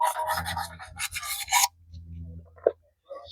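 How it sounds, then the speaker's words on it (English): Sandpaper worked over an electric motor shaft in an HVAC workshop: several close, gritty rasping strokes in quick succession, a short pause, then one more soft rub and a light tap. "we're going to give it a little shave with the sandpaper"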